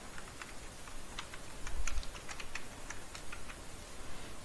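Someone types code on a computer keyboard, soft irregular key clicks in quick bursts with brief pauses, close and fairly quiet.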